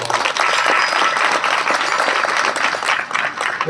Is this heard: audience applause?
yes